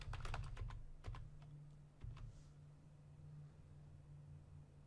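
Quick bursts of keystrokes on a computer keyboard as a password is entered, a cluster of clicks at the start and a few isolated taps after, close and fairly quiet over a faint steady hum.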